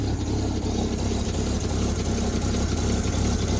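A 1954 Chevy 3800 truck engine idles while warming up, a steady loud low rumble with an even, slightly uneven throb throughout and no talking.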